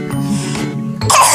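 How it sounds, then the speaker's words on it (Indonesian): A single short, harsh cough bursts out near the end, close and fairly loud, after a moment of low voiced throat sound. "Nanti aku batuk"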